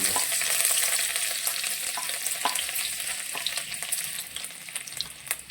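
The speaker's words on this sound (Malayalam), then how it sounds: "ഓയിൽ ചൂടായിട്ടുണ്ട് നമുക്ക് ഇഞ്ചിയും വെളുത്തുള്ളിയും കൂടെ ആദ്യം" Ginger and garlic sizzle steadily in hot oil for a Chinese-style gobi manchurian, a dense continuous crackle with scattered sharper pops and stirring clicks, close and fairly loud with no talk.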